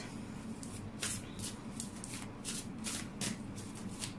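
Moonology oracle cards riffle and slide in repeated quick bursts, a soft, close shuffling that runs steadily throughout.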